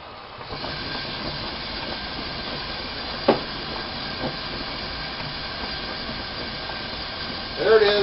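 A gas burner runs without its blower, a steady breathy hiss and low rumble with a few sharp clicks and a brief louder flare near the end.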